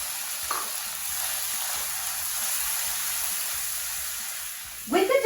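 Finely chopped tomatoes sizzle steadily in a hot pan for street-style masala pattice, a continuous frying hiss with a brief clatter of stirring near the end.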